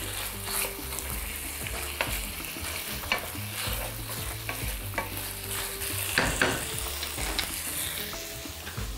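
Lamb pieces and barberries sizzle and crackle steadily in a hot pan, with occasional stirring scrapes, a continuous close frying sound with no voices.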